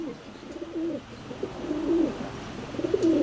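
Racing pigeons cooing in a loft: soft, repeated low coos in short phrases, close and fairly quiet over a faint background hum.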